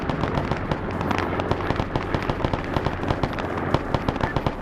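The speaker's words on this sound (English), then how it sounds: "We have artillery falling on the LZ." Artillery shells landing during a Vietnam War military game in the SOG Prairie Fire expansion, heard as a dense, rapid barrage of crackling blasts and thuds that keeps pounding at a steady pace.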